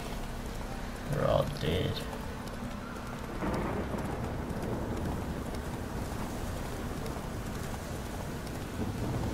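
Steady rain falls in a medieval village in The Witcher 3, a broad constant hiss that runs through the whole stretch, with horse hooves clopping briefly early on and someone talking over it.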